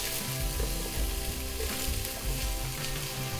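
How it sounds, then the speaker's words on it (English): Garlic and onion sizzle steadily in hot oil in a pan, a dense, continuous frying hiss that stays close and even throughout, with no voices. "we're going to put little bit of oil in a pan. We add our garlic"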